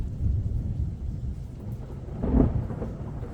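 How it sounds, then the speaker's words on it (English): Thunder from a full moon storm rolls as a low, distant rumble under light rain, swelling briefly louder partway through with no voices. "love that thunder. Can you hear it?"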